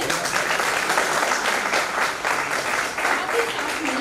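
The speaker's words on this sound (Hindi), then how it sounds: "तालियां बजनी चाहिए इनके लिए।" A seated audience at a business training event at K.K.V. gives dense, steady applause for an introduced guest speaker. The clapping is loud and continuous throughout, with no clear voice over it.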